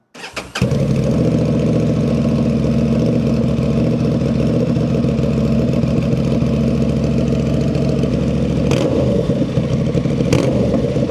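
A 2025 Honda Transalp motorcycle with a Dominator MX2 straight-pipe exhaust starts up and settles into a loud, deep, steady idle, close by, with a couple of brief blips near the end and no talking.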